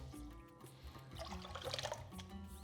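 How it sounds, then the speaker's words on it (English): Washed rice is tipped into a large bowl holding seven cups of water for Persian saffron rice pudding, a quiet, close splash and trickle swelling mid-way and fading, over a low background hum. "we get a large bowl with 7 cups of water, and we transfer the washed rice"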